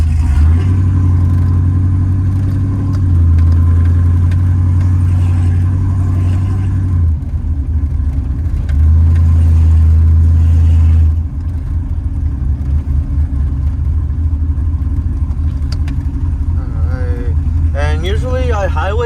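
A cammed 5.3 V8 pickup truck with a Carven R exhaust droning loudly and steadily while driving, heard from inside the cab, with a deep rumble that shifts in pitch partway through.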